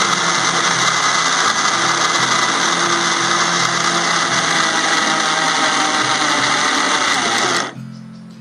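A mixer grinder whirs steadily and loudly, churning kappa (tapioca) with jaggery for a sweet kappa puttu, a continuous motor drone that cuts off abruptly near the end.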